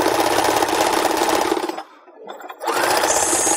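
An electric sewing machine runs stitching a fabric scarf, a fast steady mechanical whirr that stops for about a second before starting up again.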